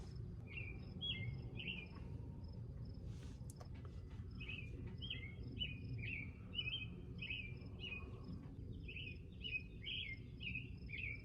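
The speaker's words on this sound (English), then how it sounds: "That bird starts out in the morning and doesn't stop until sundown." A songbird repeats short, bright chirping phrases in bursts over steady background hum, with a faint insect trill underneath.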